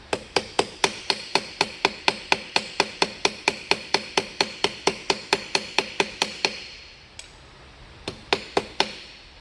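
A small hammer taps rapidly and evenly on an aluminum armor ear flap, a long run of sharp, bright metallic strikes, then a brief pause before a few more blows.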